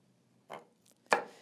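A kitchen knife chops food on a cutting board during a knife-skills demonstration. Two crisp, close strikes land about half a second apart, the second louder, in a quiet room.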